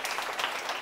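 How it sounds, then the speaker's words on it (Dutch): A studio audience at a literary late-night show applauds steadily and fairly loudly, a dense wash of clapping with no voices over it. "Een groot applaus."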